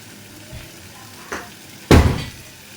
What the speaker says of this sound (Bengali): এবার ভালো করে কচুটাকে নেড়ে নেড়ে একটু মানে হালকা কষা কষা মতো করব